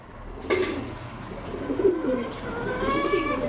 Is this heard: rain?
no